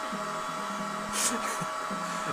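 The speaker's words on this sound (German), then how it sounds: "So, nun föhnen wir das," A hair dryer whirs steadily while drying the fur of a virtual pet in the PS3 game EyePet, a constant airy drone with brief faint clicks and rustles over it.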